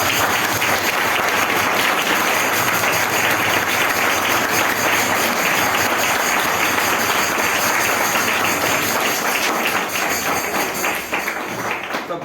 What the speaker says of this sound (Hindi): जोर से ताली बजाते हुए